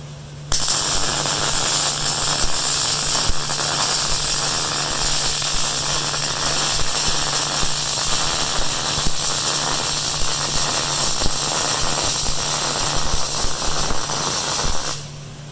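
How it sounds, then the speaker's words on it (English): Steady, loud arc welding from a Vulcan OmniPro 220 welder crackles and hisses continuously up close, with a faint electrical hum underneath, running for most of the clip before stopping. "Haven't changed anything on the welder. I think it's welding pretty good."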